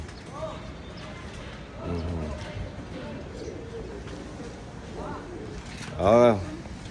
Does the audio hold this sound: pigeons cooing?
yes